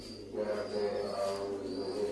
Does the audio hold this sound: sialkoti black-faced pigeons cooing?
yes